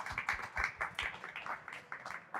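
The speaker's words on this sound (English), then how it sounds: "So a big round of applause for Zodiac for bringing us this panel." A small audience at a panel applauds for Zodiac with scattered, fairly quiet claps in an uneven patter that holds steady for a couple of seconds.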